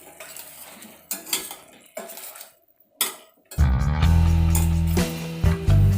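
Amla pieces cooking with jaggery are stirred in a pan with a spoon, making several scraping clinks against the metal, then a loud, steady low droning hum takes over.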